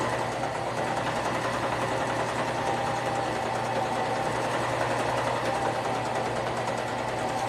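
A sewing machine runs steadily while stitching a crop tank top, with a continuous close mechanical hum and rapid needle rhythm and no pauses.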